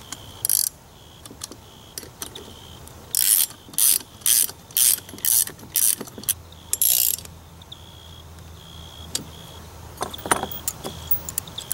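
A wrench ratcheting a nut tight on a bolt of a saddle platform: close, loud bursts of rapid metallic clicking in a regular rhythm, then a few scattered clicks and light metal clinks, with no talk.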